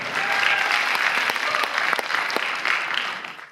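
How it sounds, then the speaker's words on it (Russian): Audience applause at a 2016 Yakutsk cup quiz event, a dense, steady wash of many hands clapping throughout, close and loud, fading slightly at the end with no talk over it. "Аплодисменты."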